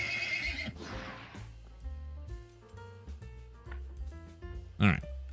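A horse in the Wartales game gives a loud whinny, followed by hoof clip-clops mixed with soft musical score, another snort or short neigh near the end.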